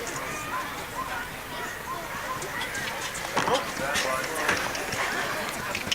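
Horse hooves thud across a show jumping arena during a Grand Prix round at an Easter festival, fairly distant under steady crowd ambience, with faint clip-clop rhythm and a few sharper knocks, while a commentator talks.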